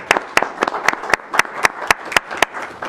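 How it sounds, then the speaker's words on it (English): A small group applauding at a county fiscal court meeting after a unanimous vote, with a handful of sparse, steady claps sounding close and fairly loud in a quiet room. "And I think that deserves a round of applause."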